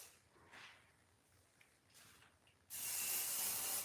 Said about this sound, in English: spray some of my dry shampoo